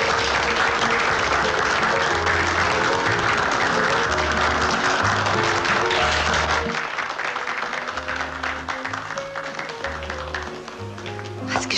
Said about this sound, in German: Hört ihr den Applaus?